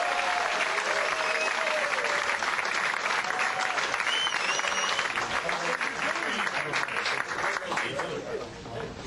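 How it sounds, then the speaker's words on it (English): A roast audience bursts into sustained applause, dense clapping mixed with whistles and cheers from a large crowd, filling the room steadily and easing slightly toward the end as a guest of honor is welcomed. "Please give a warm round of applause for our good friend, Mr. George Takei."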